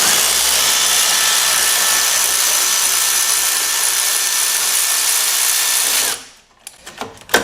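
A power tool, likely an impact gun, runs loud and continuously for about six seconds to release a suspension bolt on a 5.0 Mountaineer, then stops, leaving a few light metallic clicks and knocks.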